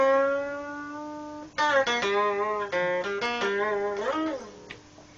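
Electric guitar notes with string bends that slide the pitch up and back, a held tone followed by a quick run of plucked, bent notes, played clearly on their own.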